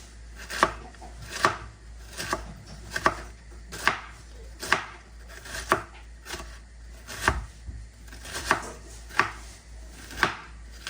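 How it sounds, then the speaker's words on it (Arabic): Knife chopping cabbage into small pieces on a cutting board for coleslaw, with a steady series of sharp, close thuds spaced about every half second to a second over a low background hum, no talking. "نقوم ببشر الجزرة ونصف البصلة، ونقوم بتقطيع الكرنب إلى أجزاء صغيرة"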